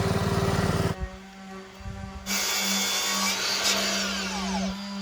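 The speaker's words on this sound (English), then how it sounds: "sanding off some of the darker areas and some marks" A power sander works over cedar privacy fence wood, a loud steady whirring grind that starts partway through after a quieter stretch of low motor hum.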